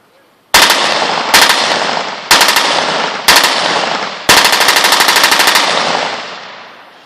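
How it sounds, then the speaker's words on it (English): A fully automatic weapon fires in an outdoor demonstration at Freedom Plaza, with five loud bursts of rapid shots, each trailing into echo, the last burst the longest. "You can see the effectiveness of that fully automatic weapon."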